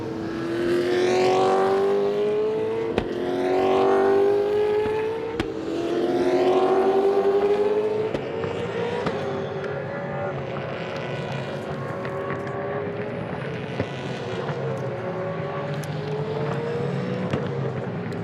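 Onboard a Ford FPR Falcon V8 Supercar racing into the final corner at Queensland Raceway, the loud V8 revs up through the gears in rising sweeps, backs off, then holds a steady high drone with brief gearshift blips.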